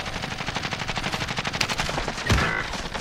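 Rapid automatic gunfire in a video game, a steady rattling stream of shots capped by a louder, heavier blast near the end.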